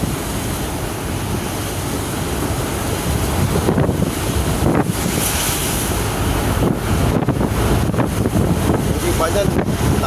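Strong wind roars and buffets the microphone steadily and loudly during a rainy-season road trip, with a faint hiss of surf-like noise and a few louder gusts throughout.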